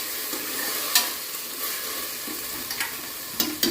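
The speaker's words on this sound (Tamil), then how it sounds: "புதினா போட்டு நல்லா மிக்ஸ் பண்ணிக்கோங்க." Fresh mint being stirred into mushroom biryani masala frying in a pan: a constant close sizzle broken by several clicks and scrapes of a spoon against the pan, with no voices.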